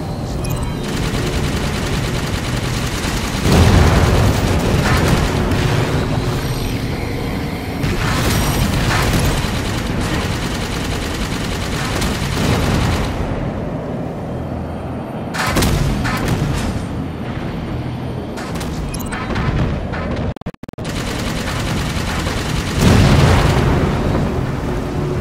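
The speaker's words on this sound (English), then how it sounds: "Banshees aren't fast enough to get clear of the reactor explosion." Heavy, continuous combat in the video game Halo 5: dense bursts of gunfire and booming explosions layered loudly over one another for the whole stretch, with brief dips in intensity and no talking.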